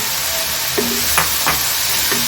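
Chili sauce poured into chicken and vegetable chow mein in a hot pan, giving a loud, steady sizzle throughout, with a few brief stirring scrapes close by and no talking.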